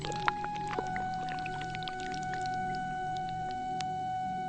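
Water poured from a clay pot to give an eagle a drink, a soft trickling splash under a faint steady ringing tone, with a few light drips and taps.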